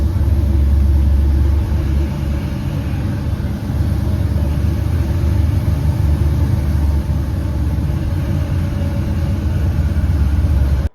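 A voice imitates the twin-turbo engine of a Saleen S7 supercar, a loud, steady low rumble like an idling engine that holds for about eleven seconds before cutting off abruptly.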